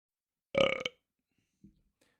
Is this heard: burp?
yes